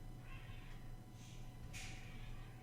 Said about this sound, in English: there's, like, cats screaming outside